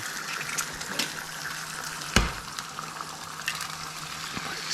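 Eggs fry in a hot pan at about 350 degrees, giving a close, steady sizzle with crackling pops and one sharp tap or splatter partway through. No one speaks.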